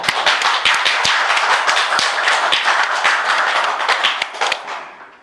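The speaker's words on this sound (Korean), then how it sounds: "우리 어린이들을 축하하는 마음으로 한번 박수 칠까요?" A church congregation claps together to celebrate children on Children's Sunday, loud, close and fairly rhythmic clapping with sharp individual slaps that fades out near the end.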